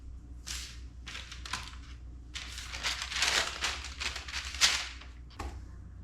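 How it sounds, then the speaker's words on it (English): Sheets of parchment paper crinkle and rustle as they are handled and folded around slices of bulk bacon, in close, irregular bursts of crackling with brief pauses between. "This is parchment paper."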